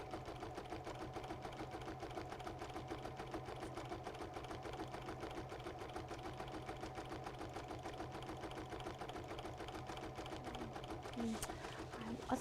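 A domestic embroidery machine satin stitches a design with a fast, steady mechanical needle patter that continues throughout. The stitching is fairly quiet and stays constant, with a faint brief clunk near the end.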